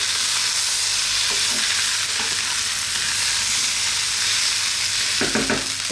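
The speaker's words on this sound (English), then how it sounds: "let's keep it moving for a few seconds. We don't want the powders to burn." Spice powders sizzle and crackle in a hot pan for a potato coconut milk curry, a constant bright hiss broken by a few scraping stirs of the spoon.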